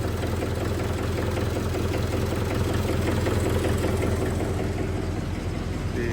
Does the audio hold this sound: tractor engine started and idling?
yes